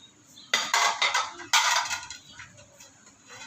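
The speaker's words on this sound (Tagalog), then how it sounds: "Tapos lagay tayo ng pinggan" Dishes are set down on a table during a Filipino meal of fish soup cooked over hot stones, with a run of sharp ceramic clatters and knocks, followed by a louder second burst and then lighter clinks.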